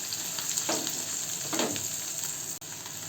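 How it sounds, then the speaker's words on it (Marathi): Onion with red and green chillies sautéing in oil, a steady soft sizzle with two brief swells of stirring, close and alone. "त्यामध्ये टाकूया कांदा आणि सगळं आता आपण चांगलं परतून घेऊ"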